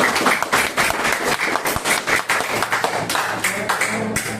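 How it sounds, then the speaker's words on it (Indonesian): A group claps in a brisk, steady round of applause, many hands beating together at close range for a few seconds. "Beri tepuk tangan untuk kelompok"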